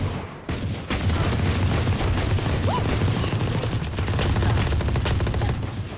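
Rapid Valorant gunfire rattles out in dense, loud bursts of sharp cracks, close and nearly continuous, with a brief gap near the start before the shooting resumes.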